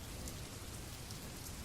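Steady rain falls in a dense, even hiss, close and continuous with no voices or other sounds.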